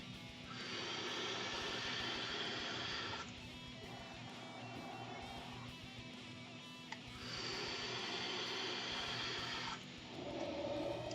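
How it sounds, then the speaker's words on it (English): Sub-ohm vape draw through an iJoy Reaper tank with a 0.3 ohm parallel coil head at 85 watts: two long, steady airy hisses of about three seconds each, close and fairly loud, alone with no talk. "So let's have a vape."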